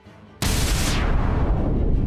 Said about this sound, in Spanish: Su arma estaba completamente cargada, y abrió fuego.